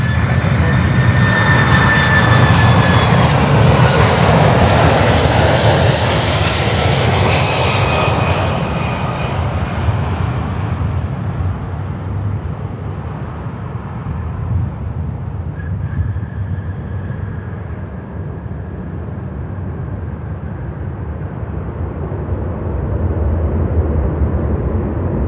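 A large aircraft on final approach to land at Miami airport roars loudly, its broad engine rumble swelling close by, then easing into a steady distant drone. No one speaks.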